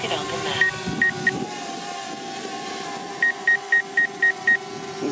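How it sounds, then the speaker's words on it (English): Two short bursts of high electronic beeps from a DJI Spark drone's obstacle avoidance warning, then a steady run of six evenly spaced beeps over the drone's constant mechanical whine and hum. "what you hear is my obstacle avoidance beeping."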